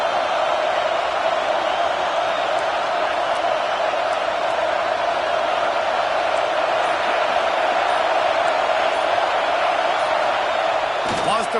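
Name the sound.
stadium crowd roaring at a football game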